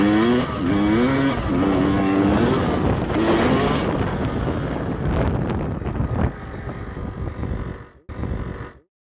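A dirt bike engine revs loudly close by with heavy wind buffeting while the rear brake locks and the tire skids on dirt, a rising and falling roar that fades and cuts out near the end.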